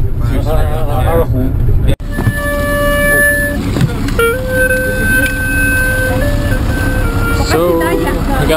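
A street musician in China plays a two-string fiddle next to a bus stop, with long sustained notes that slide between pitches over heavy traffic noise and a voice speaking nearby.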